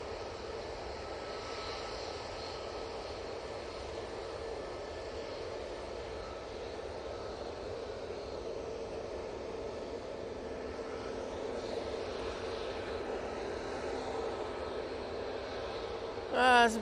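An Etihad airliner at Manchester Airport produces a steady, fairly distant engine drone that swells slightly toward the end, with faint talk underneath.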